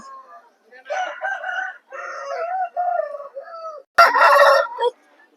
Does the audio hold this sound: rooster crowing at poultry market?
yes